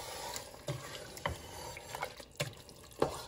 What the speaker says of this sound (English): So right now we're adding half a cup of water